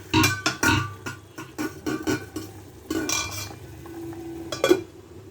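A metal lid clanks onto a cooking pot of soft, spongy rasgulla on a high gas flame, amid a series of close, sharp clinks and scrapes of pots and utensils.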